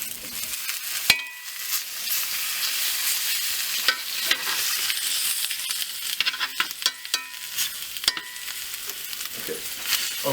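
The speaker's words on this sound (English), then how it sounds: "while we have our meat over here browning" A whole ribeye steak browns in a pan for Texas stew, giving a continuous loud sizzle with occasional scraping stirs and utensil knocks, close by.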